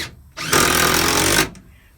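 A power drill drives screws through old 2x6 boards into a footing form, one loud sustained whirring burst of about a second with quieter pauses before and after, close by and with no talk.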